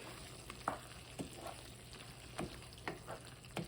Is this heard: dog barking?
no